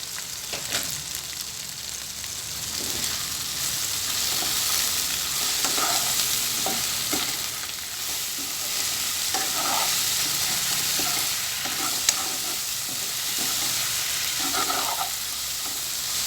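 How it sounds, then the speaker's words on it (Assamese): Tomatoes fry and sizzle in a hot wok with salt and turmeric, a steady crackling hiss broken by repeated scraping stirs of the spatula, close up and with no talking. "বিলাহীখিনি কেৰাহীতে ভাজি মই মিহি কৰি ল'ম।"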